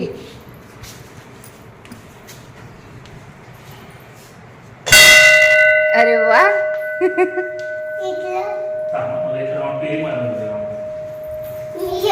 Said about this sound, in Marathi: घंटी वाजवायची आहे ना उचलून घे घंट्या वाजून दे